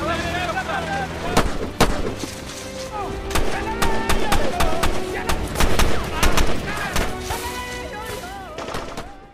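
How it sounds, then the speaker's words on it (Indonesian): Gunfire during an attack scene in a film: sharp, loud shots and bursts cracking at irregular intervals over a busy soundtrack, with a voice narrating underneath. "Sementara kelompok Yakubu terus saja menyerang."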